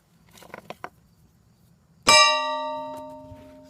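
A C. S. Bell Co. No. 22 large cast iron church school bell, without its clapper, is struck once after a few light taps, giving a loud metallic clang with a long, ringing hum that slowly decays.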